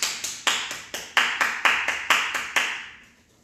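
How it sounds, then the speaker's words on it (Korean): Clapping at a birthday party: about ten sharp, evenly spaced claps close by, the rhythm steady before fading out, with no talking over them. "박수."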